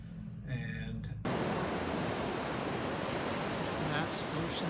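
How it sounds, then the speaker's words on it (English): Ocean surf at Oceanside Beach rumbles in as a loud, continuous wash of broadband noise, with faint voices briefly audible before the roar takes over. "that's Oceanside Beach. You can hear the waves. It's loud. They really rumble in."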